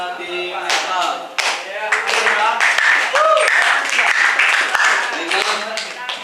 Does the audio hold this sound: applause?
yes